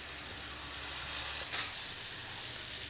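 Garam masala frying in hot oil for white chicken korma, a steady close sizzle with faint stirring, continuous and even with no voices.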